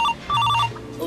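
A phone rings in short electronic bursts, a brief pulse, a pause, then a longer warbling ring that cuts off, fairly close and clear with no talk over it.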